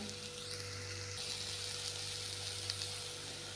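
Onions and spices frying in a pan on a low flame while making bitter gourd (karela) curry: a steady, soft sizzle with a constant background hum, no talking.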